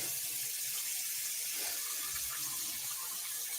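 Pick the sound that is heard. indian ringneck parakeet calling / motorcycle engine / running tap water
running tap water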